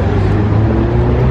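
Porsche Carrera GT sports car passing close on a city street during car spotting, a loud, steady engine drone and road roar over the whole short stretch.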